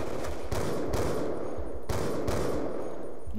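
Rapid gunfire in the multiplayer shooter Call of Duty Black Ops 2, a loud dense stream of shots with a few heavier sharp reports punctuating it, close and continuous.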